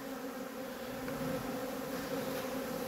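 A dense, steady buzzing of a honeybee swarm being settled into a hive, moderately quiet and unbroken, with no voices.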